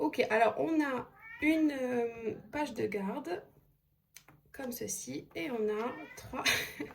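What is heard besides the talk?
cat meowing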